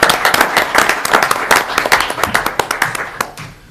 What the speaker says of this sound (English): kudos, a round of applause to all of you